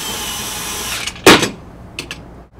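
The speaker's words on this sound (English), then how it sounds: "We can drive the screw into the nut." A power driver with an Allen bit runs a screw into a nut held by a 7/16 wrench on an AndyMark C-channel corner connector, giving a steady whir that ends in a short loud burst, then brief clicks and silence.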